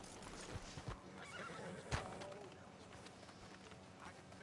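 A horse whinnies close by amid clip-clopping hooves and background ambience, with faint voices murmuring underneath, in the video game Red Dead Redemption 2.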